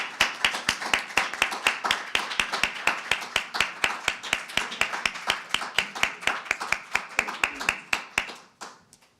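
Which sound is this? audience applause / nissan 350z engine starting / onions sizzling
audience applause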